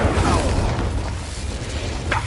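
An Incendio fire spell cast in the Hogwarts Legacy game, a loud, rumbling whoosh of flame with a deep boom that sustains across the moment and ends in a brief sharp flare.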